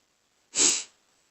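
A single sharp sneeze, close and loud, bursting out of silence and fading within a fraction of a second.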